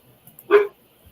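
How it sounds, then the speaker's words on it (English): A single short dog bark, fairly close, in an otherwise quiet room. "You hear the beast in the background barking."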